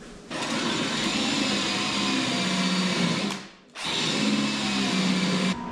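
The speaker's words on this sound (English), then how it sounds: "I should be using a 8mm pen, the pen mill. That's what does the trimming, but I only have a 7." A 7mm pen mill trims the ends of a wood pen blank flush with its tube, a steady loud power-drill whir that runs continuously, stops briefly near the middle, then spins up again and keeps going.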